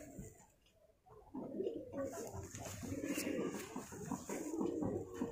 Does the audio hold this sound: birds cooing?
yes